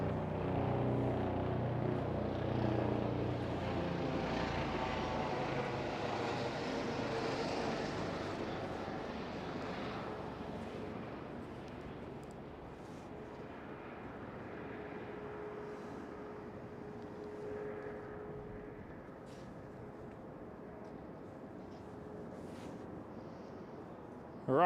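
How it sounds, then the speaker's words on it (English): A police helicopter flying overhead near Schiphol Airport in Amsterdam, a loud sustained engine and rotor roar with a steady drone that fades gradually over about twenty-five seconds as it passes. "Police helicopter."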